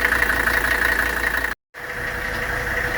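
A 1983 Mercedes 300D diesel engine idles while warming up, a steady close clattering rumble that drops out for a fraction of a second in a brief cut before resuming.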